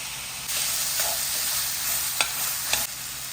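Chopped tomato sizzles in a pan of puff-pastry stuffing with carrot, turmeric, garam masala and ginger garlic paste, a steady frying hiss broken by a few sharp scrapes of the spoon as it is stirred.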